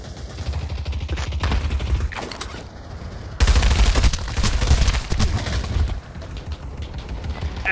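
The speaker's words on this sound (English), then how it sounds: "What the fuck are you shooting at?" Rapid bursts of automatic gunfire in the Pavlov VR shooter, loud and close, with a louder stretch of shots mid-clip and scattered mechanical clicks between them.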